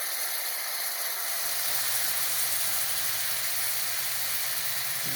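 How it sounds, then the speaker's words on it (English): Sauce hissing and sizzling steadily in a hot skillet as it is stirred in, a continuous bright crackle with a low rumble underneath, close by and alone. "I'm gonna mix my sauce that I mixed together earlier into my skillet and stir it around here"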